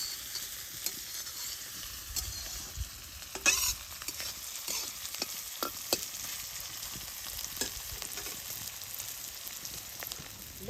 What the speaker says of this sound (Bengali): পেঁয়াজ আর মরিচটা বেশ সুন্দর করে অল্প ভাজা ভাজা করে নিব।